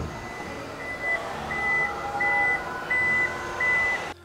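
Power lift gate on a 2024 Toyota Yaris Cross Hybrid sounding a steady series of about five evenly spaced electronic beeps, clear and fairly close in a quiet setting.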